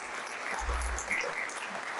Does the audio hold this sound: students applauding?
yes